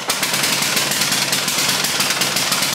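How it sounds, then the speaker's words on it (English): A lawnmower engine roars loudly and continuously, with a rapid, rattling pulse to its exhaust that never lets up. "Now that it was running, it was very loud."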